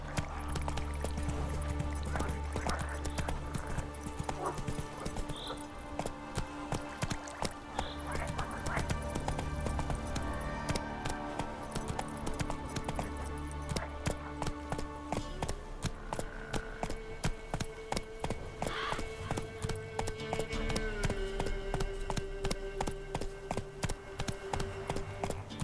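Roach the horse galloping in The Witcher 3: Wild Hunt, a fast continuous run of hoofbeats throughout with a brief whinny, layered under game music and occasional talk.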